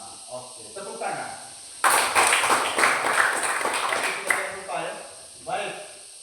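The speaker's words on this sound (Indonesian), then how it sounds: "Oke, tepuk tangan" Classroom applause during a lesson on thermometer scales: a dense burst of clapping lasts about two and a half seconds and then stops abruptly, with people talking before and after it.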